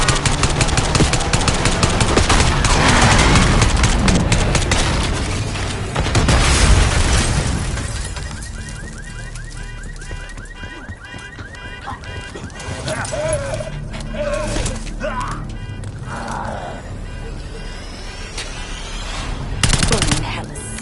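Gunfire and explosions in the shooter Black Ops 6, loud dense bursts in the first seven seconds during a street fight with a limo, then sparser shots and impacts under game voices.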